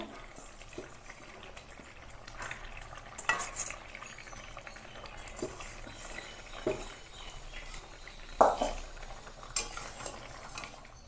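Utensil stirring Malabar spinach curry with prawns in a pan, soft scraping and clinking strokes at a steady pace with a few sharper metallic knocks, close and moderately quiet over a faint cooking hiss.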